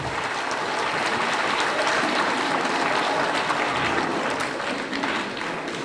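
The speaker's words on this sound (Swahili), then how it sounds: "Makofi mengi." Sustained applause from a crowd at a regional health campaign launch, dense and even throughout with a slight swell in the middle, loud and close with no speech over it.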